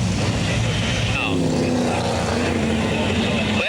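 Sprint cars roar around the Newcastle Motordrome dirt track at a 1979 championship, engines droning loud and continuous, with a commentator talking over the racing noise.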